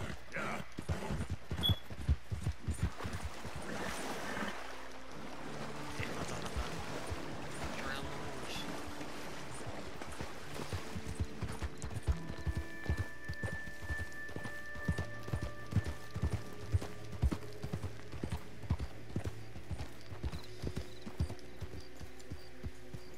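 Steady clip-clop of horse hooves at a quick pace in the video game Red Dead Redemption 2, with a rushing ambient bed and occasional voices talking over it.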